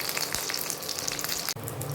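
Potatoes sizzle and crackle steadily as they fry in hot oil with green chilli, a dense close-up hiss that breaks off briefly near the end before resuming.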